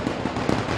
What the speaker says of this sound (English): fireworks go off as well as the St. Anthony's team enters the field for this first semi-final